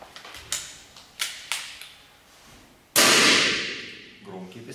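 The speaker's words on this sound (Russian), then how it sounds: "Громкий пистолет довольно, без модератора." A Weihrauch 5.5 mm air pistol fired without a moderator at an indoor shooting range: a few sharp cracks early on, then one louder, close shot with a ringing decay.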